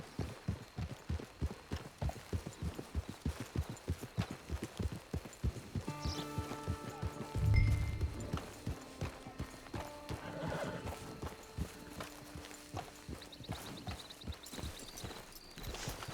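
Horse hooves clip-clop in a steady, close rhythm in the Red Dead Online video game, with a loud whinny partway through before the trotting resumes under game ambience.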